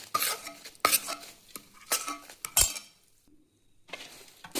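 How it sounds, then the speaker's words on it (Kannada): Puffed rice (chunmuri) is tossed and mixed with a ginger-garlic tempering in a large basket, giving close bursts of dry rustling and crunchy stirring separated by short pauses. "ಒಗ್ಗರಣೆ ಹಾಕಿದ ನಂತರ ಚುನ್ಮುರಿಯನ್ನು ಹೀಗೆ ಕಲಿಸಿ."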